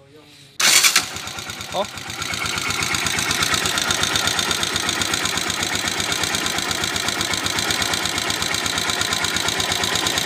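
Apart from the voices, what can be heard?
earlier recording of the engine starting and running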